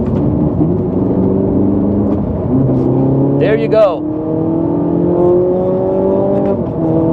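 A Ferrari 458 Italia accelerates hard from inside the cabin, its engine note climbing steadily through the gears with a brief shift break, loud and close, while people talk briefly over it.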